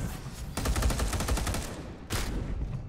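Hellfire weapon firing in Space Hulk: Deathwing: a dense, rapid stream of crackling shots runs for about a second and a half, pauses briefly, then a second loud burst follows.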